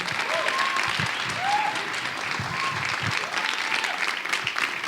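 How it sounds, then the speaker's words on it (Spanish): An audience at a church testimony event breaks into steady, full applause for a woman pastor being introduced, a dense wash of clapping sustained throughout with faint voices underneath. "Reciban con un fuerte aplauso a Marcela de Rubalcaba"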